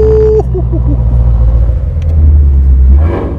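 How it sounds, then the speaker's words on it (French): A 2017 Ford GT's engine revs, its exhaust valves opening. A sharp rising snarl cuts off into a deep, loud, rumbling idle and burble that swells again near the end. "Ah oui, il y a des clapets."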